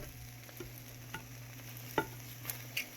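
Food fries quietly in a granite nonstick pan, a faint steady sizzle broken by a few soft clicks of stirring.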